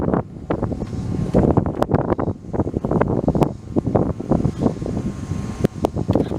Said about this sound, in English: Pause for the wind.